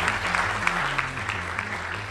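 Steady applause from a press club audience greets FCC chairman Tom Wheeler, a dense even patter of clapping sustained throughout with a low musical tone running underneath.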